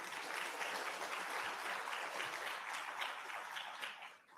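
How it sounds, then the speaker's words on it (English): An audience at the opening session of an international human rights summit claps steadily, a dense distant wash of applause that tapers off at the end. "Let's give him another round of applause."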